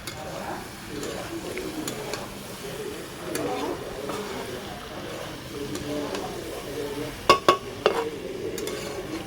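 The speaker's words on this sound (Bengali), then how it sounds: "কষা কষা করে নেব, যে একটু ভাজা হয়ে যাবে" Steady frying hiss with scraping and stirring in a pan, a couple of sharp metal clanks near the end, close by.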